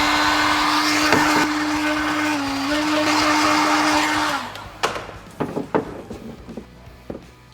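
A heat gun blows steadily while warming a dented car panel for paintless dent repair, a loud whooshing drone with a faint tonal whine that cuts off after about four seconds, followed by a few scattered clicks and knocks.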